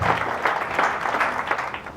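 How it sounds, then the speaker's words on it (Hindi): An audience at a motivational seminar bursts into loud, sustained applause, dense clapping that swells and holds for about two seconds. "एक बार जोरदार तालियां अपने लिए बजाइए।"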